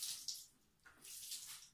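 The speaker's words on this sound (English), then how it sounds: "squeeze some water out" Water is squeezed out of wet wool yarn, giving soft, close splashing and trickling in two gentle surges.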